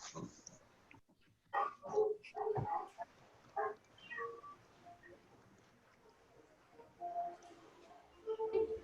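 A neighbour's dog barks in scattered bursts at a distance, sharp yaps recurring with quiet gaps between, faint and somewhat muffled indoors.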